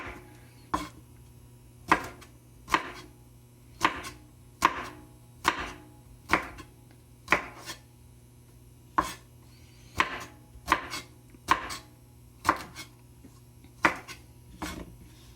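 A knife chops okra on a cutting board in a home kitchen, making sharp, close, evenly spaced knocks, about twenty in an unhurried rhythm with short quiet gaps between them, and no speech.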